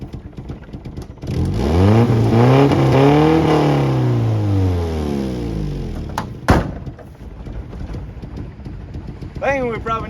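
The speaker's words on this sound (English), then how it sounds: "Fires right up, turn the key, starts up." An abandoned 1980s Mazda truck engine, idle for about 30 years, cranks and catches, revs up and settles into a rough, uneven idle close by, with a sharp clunk partway through and someone talking over it.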